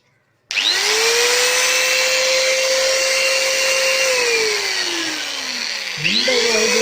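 An angle grinder is switched on and spins up into a loud, steady high whine, then coasts down in pitch before being powered up again near the end, with no voice.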